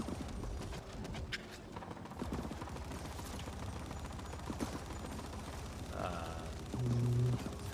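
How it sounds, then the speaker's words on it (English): Rapid gunfire bursts from the sci-fi shooter The Ascent, dense bangs and mechanical clatter layered over busy game sound in a tough combat area, heaviest toward the end. "I was reloading this gun and I shot it at the same time"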